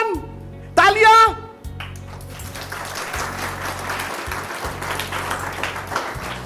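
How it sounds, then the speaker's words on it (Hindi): A church audience claps in applause during a Hindi sermon on the story of Abigail: a brief burst of clapping after a short shout, then a sustained softer patter of hands continuing for several seconds. "तालियां।"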